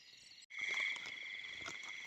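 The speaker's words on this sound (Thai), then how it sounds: "กบใหญ่ด้วย" A large frog croaks close by on a night outing in Thai countryside while catching frogs for fishing bait, a steady buzzing trill over a chorus of insects, briefly cut off near the start and then continuing without a break.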